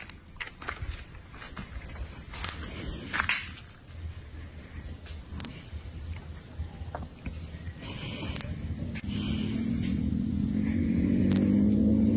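A motorcycle approaches in the last few seconds, its engine whine rising and swelling louder from a distance after quieter scattered clicks and thuds.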